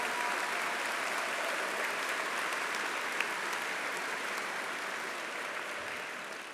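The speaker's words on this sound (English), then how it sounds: "a round of applause." Steady, sustained applause from a large convocation audience, a dense wash of many hands clapping at even loudness throughout, with no one speaking over it.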